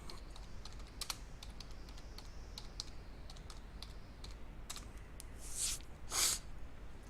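Quick keystrokes tap out a search on a computer keyboard, a light irregular clatter of clicks with a couple of louder key strikes near the end, close and alone.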